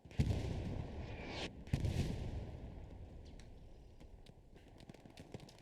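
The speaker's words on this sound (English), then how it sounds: "Artillery ravaging this DC squad." Artillery barrages in the WWII shooter Hell Let Loose: two heavy booming impacts early on, followed by fainter distant rumbling and scattered pops.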